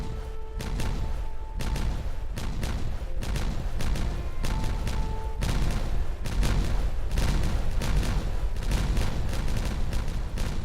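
Detonations in the video game Timberborn, a rolling series of booming blasts and crashes layered over constant game background sound.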